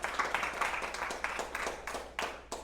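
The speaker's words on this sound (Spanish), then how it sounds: "Denle el aplauso a la palabra" A church congregation applauding together in a steady, moderately quiet wash of overlapping claps with a few sharper bursts, lasting throughout.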